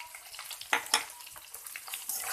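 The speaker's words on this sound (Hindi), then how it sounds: "अब इसको ऑनियन को और भिंडी को हम फ्राई करेंगे हल्का सा।" Sliced okra and onions fry in a pan with a soft steady sizzle, broken by two brief louder crackles or stirring scrapes, close and quiet.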